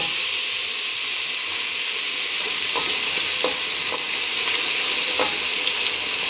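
Loud, steady sizzling from a hot pan as boiled vegetables are stirred into a tempering for Surti veg tapelu, with a few scraping clinks of a spoon.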